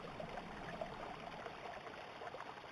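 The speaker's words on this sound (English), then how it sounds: "water sound." Water from the video game Nightmare Kart, a faint, steady trickling stream with soft bubbling, continuous and quiet, with no speech.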